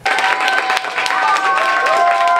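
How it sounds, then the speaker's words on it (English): A crowd of supporters cheers and claps for Kristen Wong-Tam after her Toronto municipal election win, a dense, close wash of applause and whoops with high voices rising over it. "Crowds gathered around Ward 13 councillor Kristen Wong-Tam after her big win"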